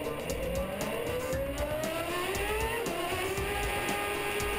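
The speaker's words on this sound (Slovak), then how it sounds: "Autá tu brzdia z rýchlosti 320 km za hodinu na 90 iba na 140 metroch." Formula 1 race cars at the 2012 Indian Grand Prix braking hard from high speed into a corner, with a continuous loud engine roar and falling pitch as they decelerate, and layered engine tones from more than one car.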